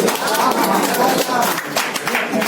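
An audience at an Urdu mushaira in Malad Malvani, Mumbai, claps to welcome a guest: a dense, steady wash of applause with mixed voices throughout.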